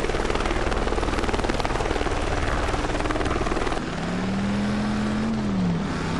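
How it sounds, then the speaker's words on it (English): A news helicopter in the video game Driver San Francisco thunders close overhead with a dense, steady rotor roar. The roar then eases into a lower, sweeping engine drone as the aircraft passes. "on the move to assist officers under fire from a goddamn news chopper"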